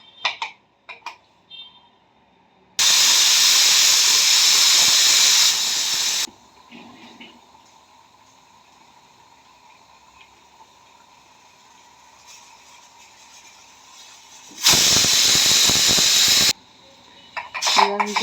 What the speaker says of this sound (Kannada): ಈಗ ಕ್ಯಾಪ್ ಕ್ಲೋಸ್ ಮಾಡಿ ಒಂದೆರಡು ವಿಷಲ್ ಕುಗ್ಸೋಣ